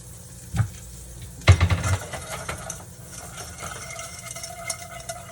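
Stuffed shrimp sizzle as they brown in a hot pan, a steady frying hiss broken by a couple of sharp clatters early on as the pan is moved.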